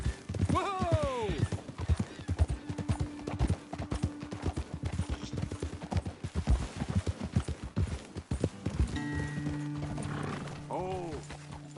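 Horse hooves clip-clop in the Red Dead Redemption 2 video game, a steady close trotting rhythm with whinnies at the start and end, over game ambience and under people talking.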